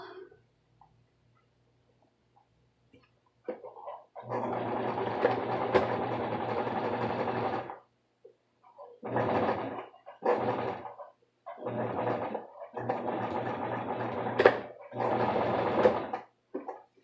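A sewing machine stitches after a new bobbin is drawn up. Its close, steady mechanical whir comes in several bursts of varying length separated by short pauses, with no talking.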